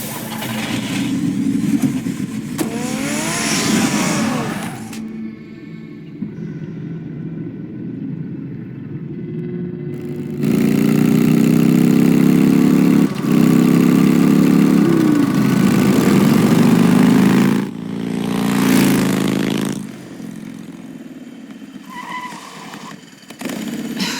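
Car engine in Batman: The Telltale Series, droning steadily and rising to a louder, fuller roar midway as the vehicle drives, with rumbling low end and brief surges throughout.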